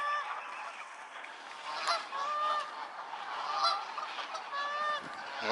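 Canada geese honk repeatedly in a park in October, several loud calls rising over a steady background murmur of outdoor noise, with no voices.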